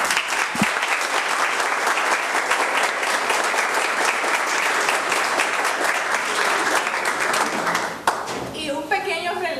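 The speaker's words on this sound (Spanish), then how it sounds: "Un aplauso." An audience applauds steadily and loudly at an event, the clapping running continuously before a voice begins speaking near the end.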